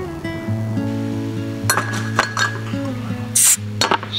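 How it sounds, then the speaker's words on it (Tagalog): Red Horse beer bottles clink together in a toast at a beach campsite, a few bright glassy taps rising over steady low hum and near talk. "Tunog ng Red Horse."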